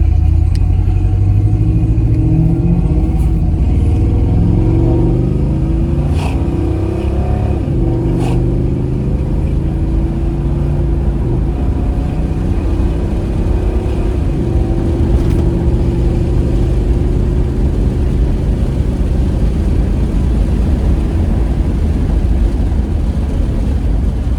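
A 1982 Conquistador powered by a 4.4 liter small block Chevrolet engine drones steadily and loudly throughout, a continuous low rumble with slowly shifting pitch and no talking.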